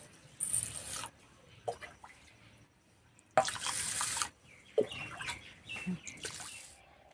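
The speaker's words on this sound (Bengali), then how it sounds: "এবার চালটা ধুয়ে নেব।" Rice for prawn pulao is washed by hand in water, with splashing and swishing in short bursts and running, dripping water between them, close up and fairly quiet.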